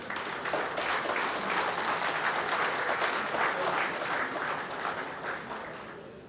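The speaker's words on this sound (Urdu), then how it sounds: "بھرپور تالیوں سے استقبال کیجیے" An audience at an Urdu poetry gathering claps warmly as a poet comes onto the stage, a dense, steady round of applause that fades slightly toward the end.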